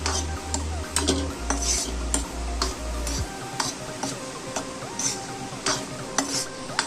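A spoon scraping and stirring gram flour as it roasts in a kadhai for laddoos, with repeated metallic clinks and scrapes at an uneven rhythm, close and fairly loud, plus a low steady hum that cuts out partway through.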